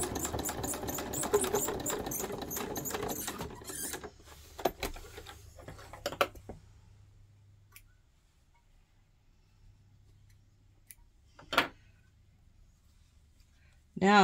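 Back stitching along an 18th-century fall front trouser seam gives a busy burst of rapid mechanical stitching for several seconds, then fades to near silence broken by a few faint clicks and taps.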